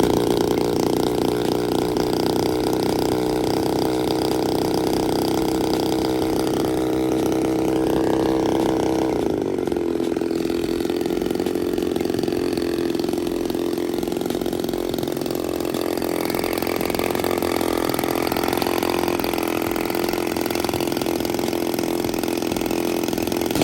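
A 38cc Ephil Power two-stroke engine with auto starter runs steadily during running-in, a loud, continuous buzzing drone that shifts pitch near the middle as the throttle changes, with no talk over it.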